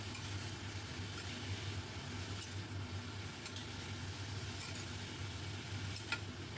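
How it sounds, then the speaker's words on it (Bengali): Pumpkin leaves in a pan being stirred with turmeric and Kashmiri chilli powder, a soft steady sizzle with faint scraping strokes of the spatula repeating every second or so, quiet and close. "খুব ভালো করে মিশিয়ে নেব।"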